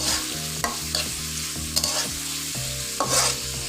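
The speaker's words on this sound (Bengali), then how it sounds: "জাস্ট এভাবে নেড়ে চেড়ে ভাজা ভাজা করে নেব।" Onions, green chilies, garlic and dried fish sizzling loudly in a pan while a spatula scrapes and stirs in repeated strokes, close up.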